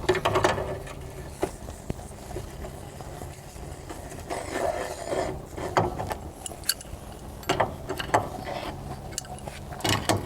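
A nut being tightened onto a trailer brake hub lock ring, faint metallic clicks and scraping taps scattered irregularly over a quiet workshop background.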